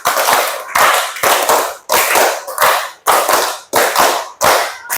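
A classroom of students claps a rhythmic pattern in unison, sharp loud bursts of hand claps grouped in repeated beats with brief silent gaps between each group, close and clear.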